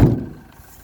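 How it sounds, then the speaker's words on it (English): A single low thud comes from the door of a Peugeot Boxer stealth camper van swinging shut, close and brief, fading quickly. "And then this, gonna shut this door"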